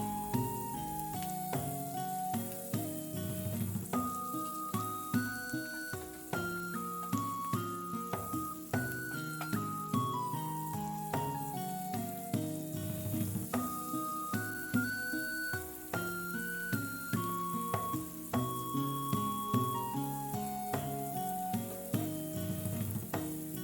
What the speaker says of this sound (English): you're just going to cook that while stirring continuously until the leeks are softened